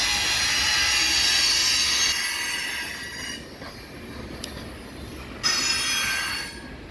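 A long coal drag, a freight train loaded with black diamond coal, rolls past with a steady metallic wheel squeal and rumble near the tracks, easing to a quieter roll before a brief louder surge.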